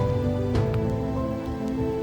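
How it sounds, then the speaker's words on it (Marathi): Steady rain falls on a surface during a trek at Irshalgad fort, a dense continuous patter under a low constant hum, with a few louder drips standing out. "रात्रीपासून पाऊस पडतोय"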